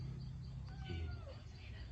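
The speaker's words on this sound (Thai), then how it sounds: "อันนี้เป็นแมวแม่" A mother cat meows once, a short mid-pitched call standing out over a steady low background hum.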